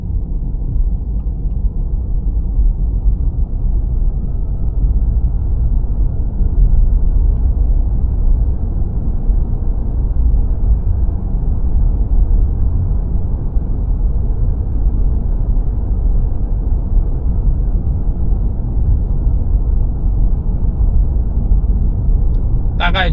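Steady low road and wind roar fills the cabin of a 2024 Tesla Model 3 Performance as it accelerates, a constant dense rumble with no distinct peaks, loud and continuous throughout.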